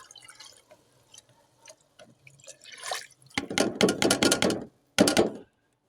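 Water is poured from a container into a cooking pot in bursts while making khichdi. Each pour is a splashing gush with short pauses between, close to the microphone and with no talking.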